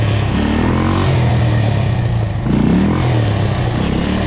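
A quad's engine revs loudly and steadily up close as the rider pops the clutch for a wheelie, a rough, continuous roar with a brief dip midway.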